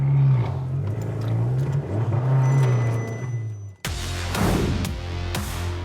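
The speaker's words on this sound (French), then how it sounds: "Donc là, je suis en seconde, j'accélère." An Abarth 595 Competizione with a Monza sport exhaust pulls hard in second gear, its engine note climbing loud and close, then a sudden gap before a fresh burst of rasping acceleration with a crackling edge.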